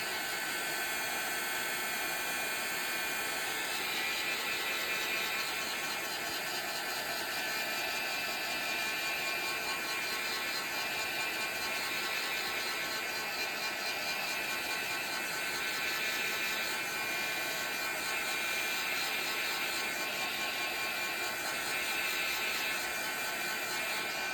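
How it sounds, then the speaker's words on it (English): A heat gun blows a steady, loud, unbroken whoosh of hot air over a watercolor painting, holding a constant roar for the whole stretch with no talking. "Get my heat gun out here."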